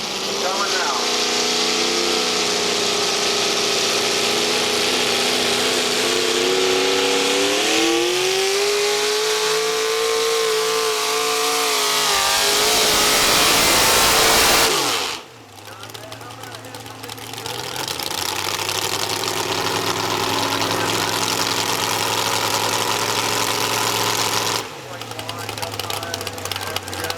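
Open-class pulling tractor roaring at a truck and tractor pull, a loud sustained engine howl rising in pitch and building to a peak before cutting back, then continuing at a lower steady drone with a brief drop near the end.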